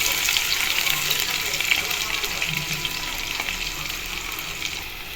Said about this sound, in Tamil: இது நல்லா ஃப்ரை பண்ணிடலாம்.